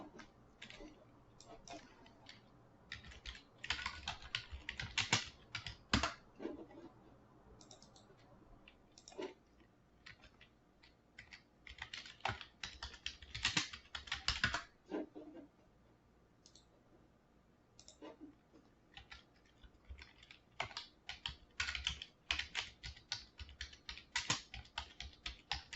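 Bursts of computer keyboard typing while renaming sheets in Revit, quick clustered keystrokes separated by pauses, crisp and close in a quiet room.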